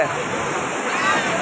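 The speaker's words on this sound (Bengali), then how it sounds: "আজকে ঢেউ অনেক বিশাল ঢেউ" A loud, continuous roar of huge surf at Puri beach, Odisha, India, broad and washing, with big waves rushing and churning close by and no break in the noise.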